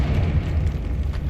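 A Confringo spell explosion in the Hogwarts Legacy video game, a short low rumbling blast that sustains for about a second, moderately loud, with no talk.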